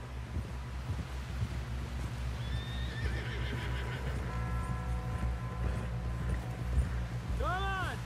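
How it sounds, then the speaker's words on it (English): Horse whinnying and hooves clip-clopping in a video game, with a neigh rising near the end over steady game wind and background music, fairly close and loud. "Someone help John down off this horse."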